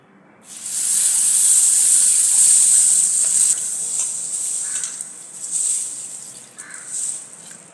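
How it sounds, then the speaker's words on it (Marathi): Moong beans rinsed with water, heard as a loud, steady rush of running water that gradually softens into uneven splashing and swirling, close by and without talk. "आता हे मूग पाणी टाकून स्वच्छ धुवून घेऊया"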